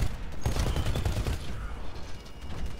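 Gunfire from the video game Titanfall rattles in dense, sustained bursts throughout, loud and close with a mechanical clatter behind it.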